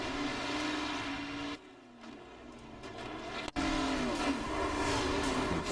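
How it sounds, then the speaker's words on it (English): A race car's engine drones steadily in a field of cars, drops off sharply as the driver lifts off the throttle, then surges back loudly a couple of seconds later. "Hear him out of the throttle."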